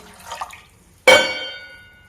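Water poured into a chickpea curry, a single sudden splash and gurgle after a soft rustle, close and loud, then fading quickly.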